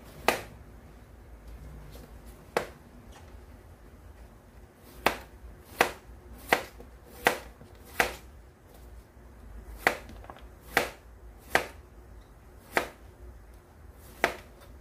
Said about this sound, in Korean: 다시국물이 만들어질 때까지 야채를 썰어서